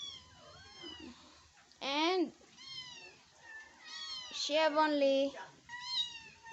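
A sick mother cat, just home after four days at a vet clinic, meows in loud, repeated calls between stretches of a person talking nearby.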